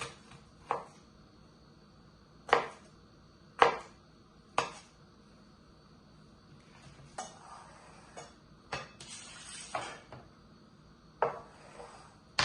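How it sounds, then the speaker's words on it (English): Knife chopping ingredients such as ginger on a cutting board while preparing pineapple, cucumber and carrot juice: a handful of sharp, separate knocks with irregular gaps between them, close and fairly clear, with no talking. "I'm going to chop"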